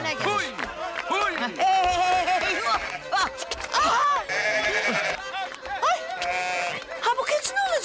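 A goat bleats repeatedly in a rural outdoor scene, its wavering cries close and loud, overlapping with several people talking and calling out.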